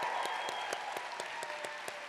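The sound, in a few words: applause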